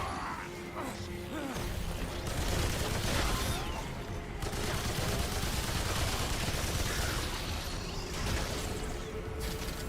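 Automatic gunfire dumps a full magazine in Remnant 2, a continuous rattle of shots running steadily at moderate loudness, mixed with game ambience and occasional clatter.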